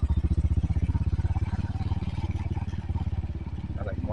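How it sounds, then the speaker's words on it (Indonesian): A motorcycle engine runs with a steady, close, rhythmic putter as the bike rides into The Hill Residence housing estate in Pamulang, with faint clatter and no talk. "Naik motor ya guys."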